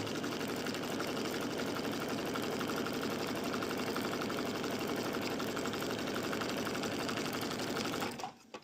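A domestic sewing machine stitches fabric in one steady, rapid mechanical chatter for about eight seconds, close and unbroken, before cutting off abruptly at the end.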